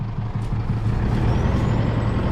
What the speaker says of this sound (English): She's running pretty rough. Poor thing. She's not a happy camper. We'll just give her a bit of a rev, Emma.